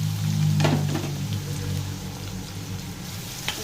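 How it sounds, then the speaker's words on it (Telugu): Onions fry in hot oil in a pan during prawn gongura cooking, giving a steady, close sizzle with scattered crackles and a few stirring scrapes, alone without talk. "ఉల్లిపాయలు బాగా వేగనివ్వండి"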